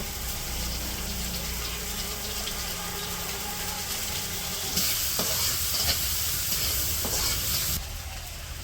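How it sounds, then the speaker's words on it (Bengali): Chopped onion, garlic and green chilies fry and get stirred in hot oil, a steady close sizzle with scraping stirs, growing louder and brighter midway, with no talking. "পেঁয়াজ রসুন ভাজা হয়ে গেছে"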